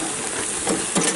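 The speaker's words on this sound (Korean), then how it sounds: "또 양고기를 넣고 달궈진 돌을 넣고" Heated stones going into a pot with lamb for Mongolian khorkhog give a brief, steady steamy hiss with a couple of small sizzling swells, close up.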